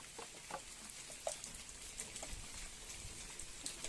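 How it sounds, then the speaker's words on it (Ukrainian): Soft, steady patter of rain with scattered drops tapping nearby, quiet and continuous with no voices. "Йде дощ і вони радіють."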